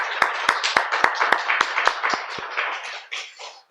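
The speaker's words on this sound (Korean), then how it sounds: "한번 감사의 박수로 영광을 올리겠습니다" A church congregation claps in thanks during an Advent dawn prayer service, a dozen or so sharp, fairly regular claps that thin out and fade over a few seconds, with no speech.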